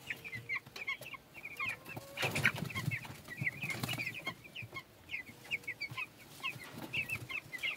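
Twelve-day-old broiler chicks in a back garden cheep steadily in high, chirpy notes, with occasional lower clucks and a few soft bumps mixed in, all fairly quiet and nearby.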